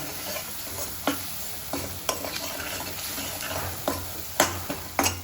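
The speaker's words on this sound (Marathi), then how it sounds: "आणि आता मस्तपैकी मसाल्यांना चांगल्या प्रकारे शिजवून घ्यायचं आहे आपल्याला." Masala for drumstick prawns sizzles steadily in a pan while a spoon stirs it, giving repeated sharp scraping clicks over the continuous frying hiss, close and fairly loud.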